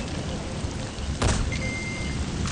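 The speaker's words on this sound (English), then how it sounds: "Sound of rainfall should help to mask your footsteps." Rain falling steadily in Metal Gear Solid V, a soft constant hiss with a brief sharper burst partway through and a faint tone near the end.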